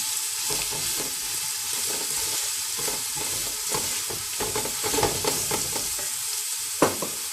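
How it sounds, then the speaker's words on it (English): Onions with green chilies sizzling steadily in a pan while being stirred, a continuous close frying hiss broken by scraping stir strokes and a sharp clink near the end. "Make sure you fry these onions to the golden brown color."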